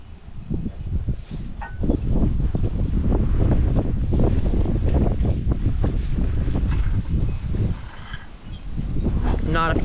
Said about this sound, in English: not a fan of this wind.